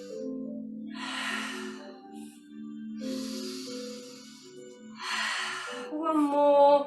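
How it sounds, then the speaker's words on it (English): Slow, deep breaths drawn in and let out at the close of a Pilates session, four or five broad airy inhales and exhales close by, with faint soft tones between them and a louder breath at the end. "Let's have a few breaths to finish."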